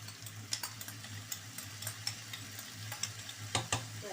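Minced chicken keema frying over high heat in a pan with yogurt and light spices, giving a steady faint sizzle under repeated scraping stirs of a utensil, with a low hum running underneath and no talking.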